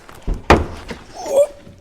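A single heavy, dull thunk of a junkyard pickup truck door, followed by a brief faint scrape, with no talking.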